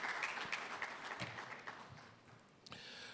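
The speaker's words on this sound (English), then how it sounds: "shall we appreciate him with a bigger round of applause?" An audience at an architects' annual general meeting in Ghana applauds an honoree, a faint, distant patter of clapping with a few sharper claps standing out.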